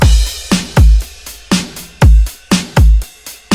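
Indie pop drum loop programmed in FL Studio, with punchy kick, snares, hi-hat, ride and crash repeating in a steady, loud, even pattern of roughly two hits per second, heard alone.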